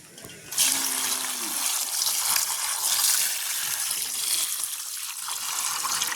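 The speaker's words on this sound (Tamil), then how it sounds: "காளான் பிரட்டலுக்கு நாங்கள் முதலாவதாக காளான கழுவி எடுப்போம்" Running water gushes steadily, loud and close, as mushrooms are washed in a village kitchen, beginning with a short burst and continuing as an even splashing flow.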